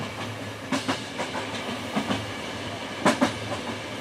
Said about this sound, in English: And we are on a train